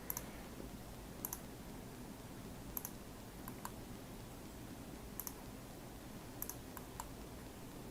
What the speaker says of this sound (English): So I'm just clicking on that little piece.